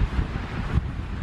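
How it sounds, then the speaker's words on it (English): Steady outdoor wind rumbling and buffeting against a microphone, a low roaring gust throughout with a brief stronger push near the end. "Oh, it is a bit windy."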